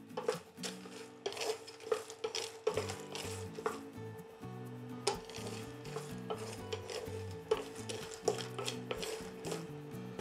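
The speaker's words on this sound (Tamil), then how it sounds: "எண்ணெய் எதுவுமே இல்லாமல் சும்மா ஒரு ட்ரை ஃப்ரை பண்ணி எடுத்துக்கலாம்." Peanuts dry-roast in a pan without oil, with repeated rough scraping and rattling stirs against the metal over a low hum, close and fairly quiet with no speech.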